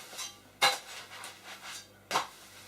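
A pancake flipped in a frying pan: two sharp clattering knocks of pan and utensil stand out, with lighter scraping clinks between them in a quiet kitchen.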